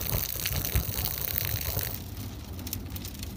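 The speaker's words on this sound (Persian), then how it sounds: "دیگه بارندگی همی اکنون بسیار بسیار شدت گرفته" Rainwater from heavy spring rain in Jaghori gushes from a roof gutter. It makes a continuous, loud rushing splash that eases slightly toward the end, with no voices.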